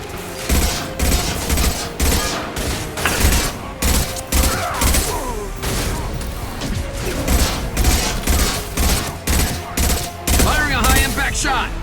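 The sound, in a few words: high-impact gunshots in a shooter video game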